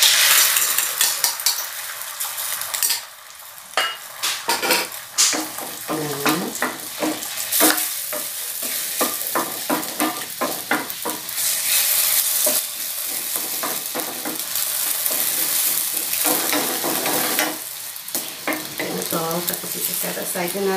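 Two eggs sizzle in hot oil in a pan during breakfast preparation, a steady close frying hiss broken by utensil scrapes and clinks against the pan, with occasional quiet talk.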